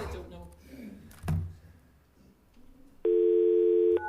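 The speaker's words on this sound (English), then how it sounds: "I'll just dial her back in" Steady telephone tone rings out loud and clear for about a second near the end of a phone call being redialed during a city council meeting, following quieter room noise and a brief thump.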